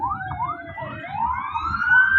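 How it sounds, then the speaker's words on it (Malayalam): An ambulance siren wails in repeated rising sweeps, fairly close, over a low engine hum. "ആംബുലൻസ് ആണ് കേട്ടോ"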